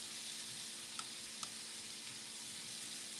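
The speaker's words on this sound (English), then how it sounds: "I love that sizzle too" A soft, steady sizzle of spaghettoni and zucchini frying with starchy pasta water in a hot skillet, with a couple of faint clinks, quiet and close.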